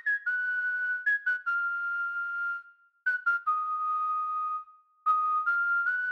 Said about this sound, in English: I swear I can hear a whistle sound on top of the main brass melody